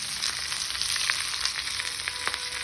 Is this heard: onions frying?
yes